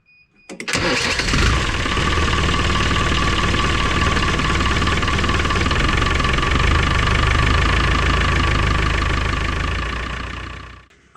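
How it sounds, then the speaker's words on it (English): A Land Rover Defender with a 300Tdi diesel engine, newly fitted with an upgraded turbo and intercooler, cranks and fires up, then settles into a loud, steady idle with a rough clatter that holds for about ten seconds before cutting off. "So I'm going to go ahead and start the vehicle and see what she sounds like."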